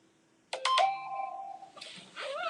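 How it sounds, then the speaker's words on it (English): A mobile phone rings during a breathwork session, a few sharp electronic tones starting abruptly, then a sustained chime that decays before a voice begins speaking over the tail. "forgot to turn my phone off."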